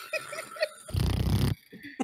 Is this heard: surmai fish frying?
no